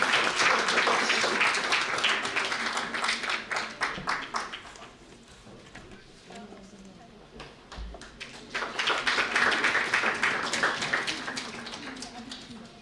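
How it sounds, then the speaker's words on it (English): At an academic conference, an audience gives a round of applause as dense clapping that thins out midway, then swells again loudly, with a voice heard briefly in the quieter middle stretch. "give a huge round of applause to our chairperson"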